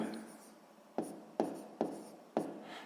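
Pen strokes on paper while working out a sixth-grade fraction multiplication, four sharp taps or strokes near at about one-second intervals over a soft scratching, with a voice talking alongside.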